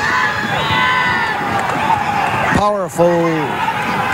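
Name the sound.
wrestling crowd screaming and cheering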